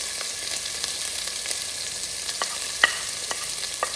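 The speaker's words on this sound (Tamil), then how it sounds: "இஞ்சி பூண்டு 2 சேர்த்து அரைச்சது நல்லா வதங்க விடுவோம்." Chillies and ground ginger garlic paste sautéing in a pan, a steady close hiss of frying with scattered small pops and light spatula clicks, no talking.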